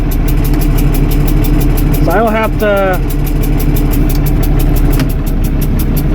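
A 1978 International Harvester 1586 tractor idles after a cold start, its engine firing in a steady, even rhythm close by. Someone talks over it throughout.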